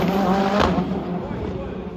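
A race car on the softest racing tires launches hard off the line, spinning all four wheels, with a loud engine roar and tire noise up close over a brief burst at a motor festival.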